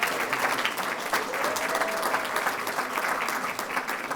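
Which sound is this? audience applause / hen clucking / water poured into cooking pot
audience applause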